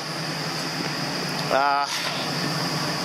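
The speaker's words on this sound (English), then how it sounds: "I'm going to go ahead and disconnect my heater so we can hear this engine run a little better." A Ford 5.4 Triton engine idles after its plugs and boots were worked on, a steady, even mechanical hum with a fan-like whir on top and a short burst of a voice partway through.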